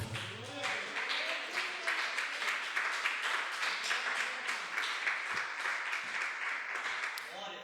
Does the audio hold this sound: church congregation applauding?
yes